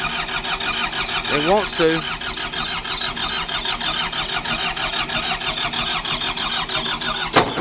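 A 2011 New Holland L220 skid steer fitted with a big mulch bucket cranks over with a rapid, even starter chatter and engine churn, loud and close, while someone speaks briefly over it.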